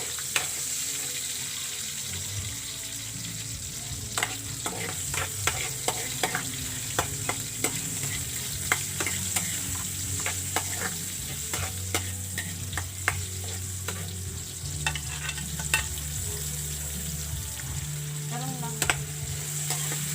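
Tomatoes and onions fry in a pan, giving a steady sizzle broken by repeated clinks and scrapes of stirring and a few brief tonal clatters, all close and without talk.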